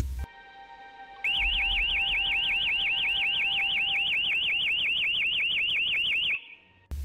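A security alarm at an outdoor yard site blares a rapid, steady warbling siren for about five seconds, loud and continuous after a brief low hum, then cuts off abruptly.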